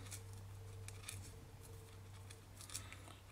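Scissors snip repeatedly at fine fibres during fly tying of an olive pattern, several quick close cuts over a steady low background hum.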